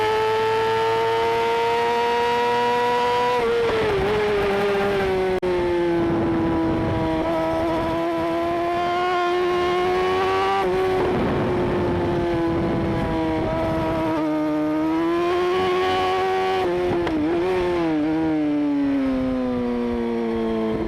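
Pro sportbike racing at the Shannonville track: a single motorcycle engine screams at steady high revs, pitch dipping and climbing through gear changes and corners, loud and close throughout with no talk.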